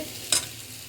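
Mutton gravy ingredients sautéing in a pan, a brief single scrape of stirring over a low steady sizzle, close and fairly quiet.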